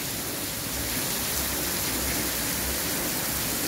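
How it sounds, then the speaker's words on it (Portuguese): Heavy rain falls steadily in the late afternoon, a dense and continuous hiss of drops pouring down with no voices heard. "E a chuva caindo."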